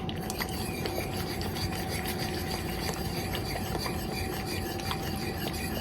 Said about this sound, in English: Just going to whisk this to incorporate it well.